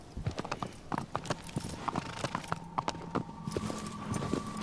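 Horse hooves clip-clopping at a quick pace in the Shadow of the Colossus video game, a steady run of near, distinct hoof strikes over a faint ambient tone, with no talk.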